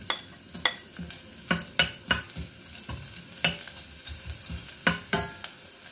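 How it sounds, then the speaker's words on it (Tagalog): Onion sautéing in hot cooking oil for chicken tinola, a soft steady sizzle broken by repeated sharp clinks and scrapes of a spoon stirring the pan, close and moderately loud with no talking. "unahin natin ilagay yung sibuyas"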